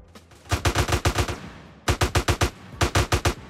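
AK-47 gunfire in GTA San Andreas: three loud, close bursts of rapid automatic shots, roughly six to eight rounds each, separated by short pauses.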